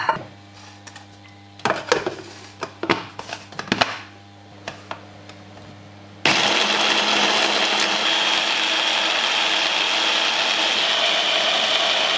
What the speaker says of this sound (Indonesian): Ini sekarang kita blender semua bahan